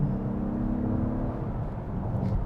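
A 2021-era Acura MDX Type S performance SUV's engine note is piped into the cabin, a low steady rumbling drone heard from inside the vehicle with a faint whirring hum.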